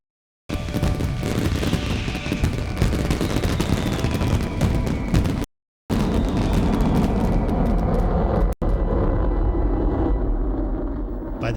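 A long, dense barrage of fireworks bursts and crackles without pause, loud and continuous, with a brief break in the middle.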